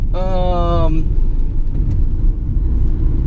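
Interior of a Mitsubishi Aircross driving, with a steady low road and engine rumble throughout; a voice speaks briefly near the start, then the drive continues under the constant hum.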